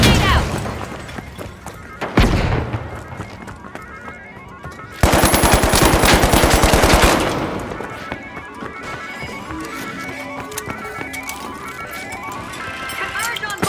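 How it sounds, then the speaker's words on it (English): Gunfire and a frag grenade blast in the shooter game The Finals: a sharp thump early on, then a dense burst of rapid automatic fire, all set against busy game effects and music. "Frag grenade out!"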